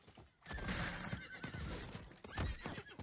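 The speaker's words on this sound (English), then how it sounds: "On the horse we go." A horse in Diablo IV gives a loud whinny with a clear rising-falling pitch, followed by hoof clops and a second neigh, close and prominent with game ambience around it.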